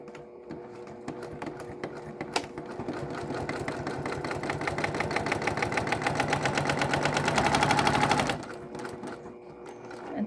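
A sewing machine with an automatic thread cutter stitches a pillow in a steady rapid rhythm, gradually speeding up, then stops abruptly near the end; nearby and fairly loud.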